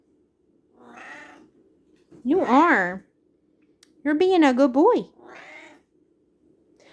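A cat meows twice in close succession, each a loud drawn-out cry with rising and falling pitch, between quieter stretches of someone speaking softly to it indoors.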